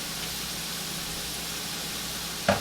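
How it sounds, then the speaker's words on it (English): Sausage sizzling steadily in a hot pan, a soft continuous frying hiss throughout, with a brief clink or scrape of stirring near the end. "add in my sausage and give that a little stir"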